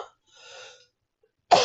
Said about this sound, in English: I'm like coughing.